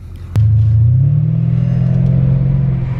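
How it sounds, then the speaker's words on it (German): A Mercedes CL500 C216 with a straight-pipe exhaust fires into a loud, deep, booming rumble that climbs slightly in pitch as it pulls through town. It sounds close and heavy, with no voices. "Wir sind jetzt hier gerade schon mal mit dem C216 Straight Pipe durch die Stadt gebrettert."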